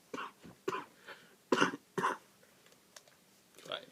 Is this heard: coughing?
yes